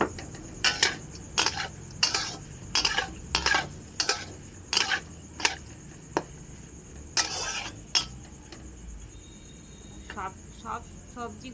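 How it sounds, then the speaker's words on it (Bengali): Carrots and other vegetables being fried for fried rice: a spoon repeatedly scrapes and clinks against the pan in a regular rhythm over a constant faint sizzle and high-pitched hum, with a voice talking in between. "সব সবজিগুলো আমি লাল লাল করে ভেজে নেব"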